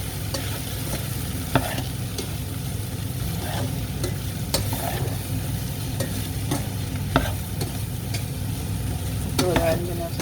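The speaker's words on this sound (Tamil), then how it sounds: "இப்போ நாங்கள் சூடும் பெருங்காயம் போட்டுக்கணும்." Asafoetida fries in hot oil in a pan for beans poriyal, a steady sizzle running throughout while a spoon stirs and scrapes with occasional sharp clicks against the metal.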